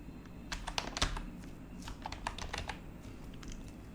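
Typing on a computer keyboard into a search bar gives a quick, irregular run of close, light key clicks with short pauses.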